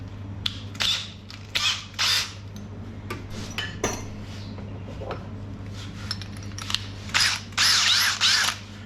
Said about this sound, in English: drill a hole through the bucket to fit that plug in